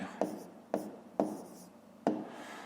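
Numbers are handwritten on paper for a fifth-grade maths exercise, giving four separate short scratchy pen strokes at uneven intervals, close and fairly quiet.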